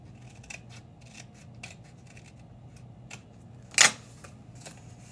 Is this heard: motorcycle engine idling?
no